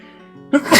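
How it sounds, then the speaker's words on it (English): A single close, loud human sneeze bursts out after a brief quiet lead-in, a sharp inhaled catch followed by a forceful explosive release. "Oh, I'm going to sneeze again."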